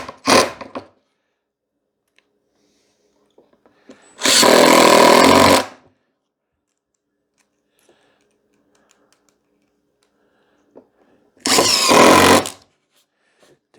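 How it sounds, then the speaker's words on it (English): Power drill driving screws into a plywood cover for a bee nuc box, two loud bursts of whirring several seconds apart with near silence between. "operation is to drive 6 screws"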